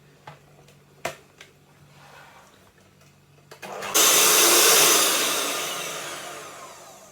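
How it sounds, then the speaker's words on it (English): An electric mixer starts whipping Italian buttercream in a home kitchen, a loud steady whirring that begins abruptly after a few faint clicks and slowly fades. "I'm going to keep beating this, or maybe a minute, till it goes all white and fluffy."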